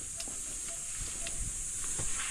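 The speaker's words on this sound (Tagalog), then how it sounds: "Kumukulo na ang aming ulam" A pot of food simmers at an outdoor campsite, giving a steady soft hiss with faint bubbling pops scattered through it, quiet and close.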